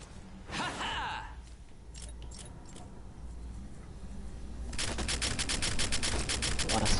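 Rapid bursts of weapon fire in the Fortnite video game, crackling in a dense, steady stream that grows louder over several seconds, with voices and a short gasp heard early on.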